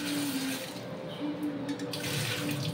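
Steady faucet water runs into a kitchen sink while boiled potatoes are rinsed for parathas, a soft continuous splashing stream at moderate distance with no talking.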